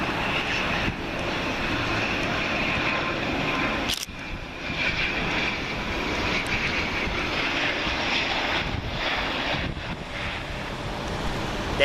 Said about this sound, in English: Next up we have Loganair ATR 72-600, registration Golf Lima Mike Tango Alpha, and that's working flight LM25 from Aberdeen